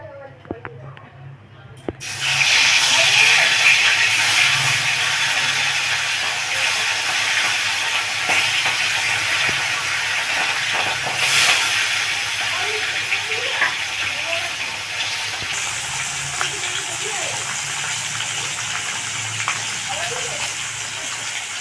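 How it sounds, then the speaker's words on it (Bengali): Katla fish belly pieces frying in hot oil in a kadai: after a quiet couple of seconds, a loud, steady sizzle and hiss starts up close and keeps going without a break. "তেলটা গরম হয়ে গেলে মাছগুলোকে ভেজে নেব"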